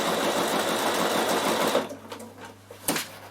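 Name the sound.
sewing machine sewing satin stitch on a bag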